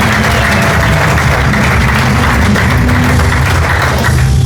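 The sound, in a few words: church congregation applauding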